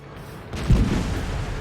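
A tank cannon in World of Tanks fires once with a single heavy, close boom that swells into a rumbling tail lasting about a second.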